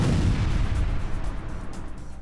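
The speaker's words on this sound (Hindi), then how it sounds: "भीषण विस्फोट की यह तस्वीर वेस्ट बैंक के नेबलस इलाके की है" A massive explosion in Nablus in the West Bank rumbles as a deep, loud boom that decays into a lingering low roar with crackling, no voices heard.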